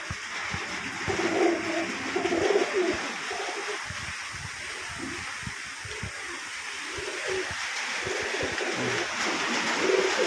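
A pair of pigeons coo in soft low bursts during heavy rain, partly masked by the steady close patter of rain.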